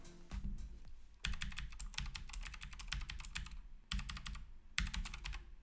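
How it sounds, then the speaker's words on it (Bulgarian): Keychron K4 V2 wireless mechanical keyboard being typed on to show its switches: rapid, steady bursts of crisp clacking keystrokes, close and clear, broken by short pauses, with no voice over them. "Ето сега ще чуете как звучат самите свичове."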